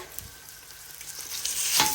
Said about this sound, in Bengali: শাক একটু রেখে দিছিলাম সেইটা দিয়ে একটু চিংড়ি মাছ দিয়ে ভাজছি